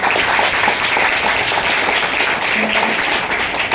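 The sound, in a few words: audience applause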